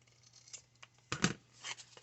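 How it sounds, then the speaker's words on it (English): Scissors snip the corners off a sheet of cardstock at a quiet crafting table. One crisp, close cut stands out among a few fainter snips and light paper rustles, with no talking. "I'm going to trim these corners."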